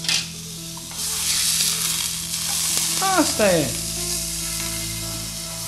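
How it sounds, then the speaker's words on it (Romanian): Sauce simmers and sizzles in a pan in a MasterChef competition kitchen during a grilled beef tenderloin cook, a continuous loud frying hiss with a few stirring knocks; a short spoken phrase is heard over it. "Vezi, deja fierbe."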